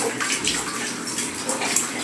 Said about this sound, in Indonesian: di sini saya coba membersihkan pipa saluran air yang ke water heater dan ke keran air panas ya teman-teman.